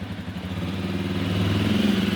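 Jawa Perak motorcycle engine running steadily at idle, a close, throbbing mid-pitched rumble with faint mechanical clatter, no voices.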